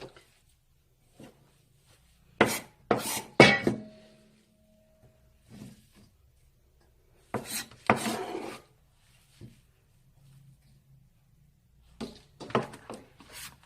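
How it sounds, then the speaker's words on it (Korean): A knife slices blanched vegetable stems into bite-size pieces on a cutting board, giving short rasping chops in clustered bursts separated by quiet pauses. "그리고 이제 한 입 크기로 먹기 좋게 이렇게 썰어서"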